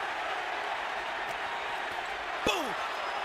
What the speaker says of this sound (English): the crowd picks up the chant